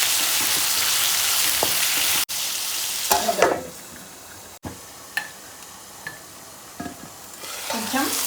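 Radish fry being stirred in a pan with salt and turmeric, a spoon scraping and clinking against the metal over steady sizzling, with several distinct stirring strokes close by.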